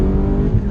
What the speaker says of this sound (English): Engine pulls so strong and so smooth.